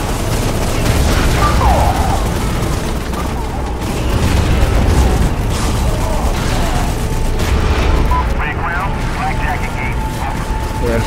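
Cannon fire in Prototype: repeated heavy booms and blasts merging into a dense, loud barrage with mechanical clatter, under a speaking voice.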